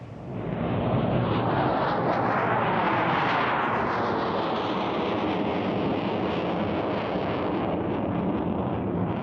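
A two-seat MiG-29M2 jet fighter roars past at an airshow, a loud broadband engine rush that swells and shifts in pitch as it passes, then holds a sustained roar with some wind buffeting.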